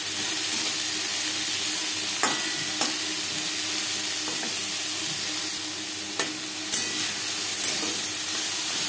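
Spiny gourd slices with salt and turmeric sizzle steadily in a hot pan on a gas flame, with a continuous loud frying hiss and occasional sharp spatula scrapes as they are stirred.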